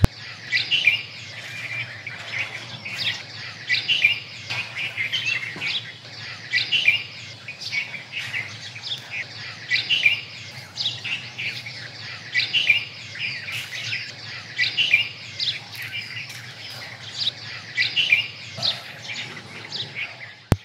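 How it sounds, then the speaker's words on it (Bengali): Many birds chirp and call continuously in Sundarbans mangrove forest, a lively overlapping chorus of high twitters with no voices. "অনেক পাখির কলকাকলি, একটু নীরব থাকলেই অনেক পাখির ডাক শোনা যাচ্ছে এখানে।"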